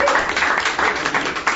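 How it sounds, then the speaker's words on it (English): A studio audience at a live Dungeons & Dragons comedy podcast gives a short, thin round of applause as a player is welcomed on stage, a steady patter of scattered clapping that lasts under two seconds. "That was a tentative welcome to the stage from the audience"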